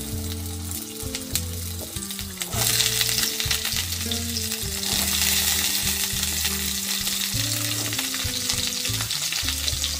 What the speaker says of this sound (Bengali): কড়াইতে তেল দিয়েছি, আলু আর পটলটা ভেজে নেব।